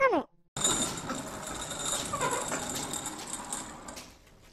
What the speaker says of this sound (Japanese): シャッターキーがカチッカチッと音はするんですけど